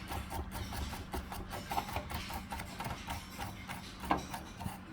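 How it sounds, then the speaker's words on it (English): Brush scrubbing loose matrix off a fossil during cleaning, a quiet, close, continuous bristly scratching with irregular short strokes and small ticks. "I wonder how much detail I'm actually removing by brushing it like this."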